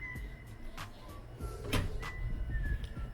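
Display cabinet doors in a room holding collectible statues are opened and shut, giving a few soft knocks and rattles spread over a few seconds against quiet room tone.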